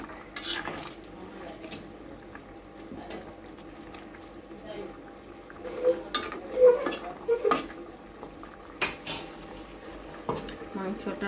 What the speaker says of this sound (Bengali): ধনিয়া গুঁড়ো, এবার নেড়ে চেড়ে মশলাটা ভালো করে মিক্স করে নেব।